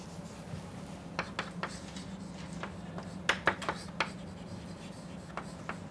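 Chalk writing on a blackboard during a physics lecture, a series of sharp taps and short scratchy strokes at an irregular pace, moderately close over a low room hum, with no talking.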